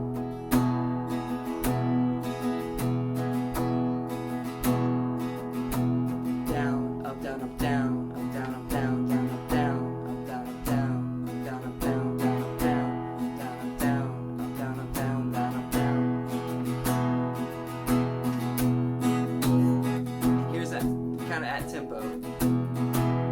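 Acoustic guitar strummed in a quick 16th-note up-down pattern with pushes before the downbeats, for the worship song Sing to the King, a dense rhythmic stream of bright strokes played alone and close.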